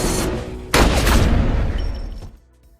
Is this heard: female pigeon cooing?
no